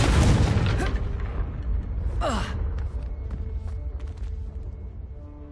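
Confringo explosive spell in Hogwarts Legacy on PS5: a single sharp magical blast with a whooshing burst near the start, followed by crackling debris and fading rumble.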